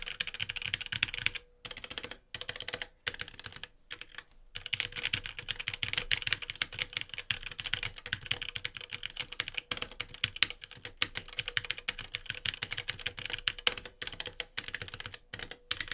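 Fast, steady typing on a HyperX gaming keyboard with red linear switches, a close, continuous patter of light key clicks with a few short pauses and no voice.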